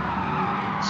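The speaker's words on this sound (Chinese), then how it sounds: "翔哥打滑" Tires skid as a race car slides sideways through a corner in Gran Turismo Sport during an N300-class race at Dragon Trail, a sustained close screech over steady engine roar lasting the whole moment.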